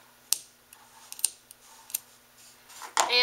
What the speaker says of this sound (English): Then I'm just going to cut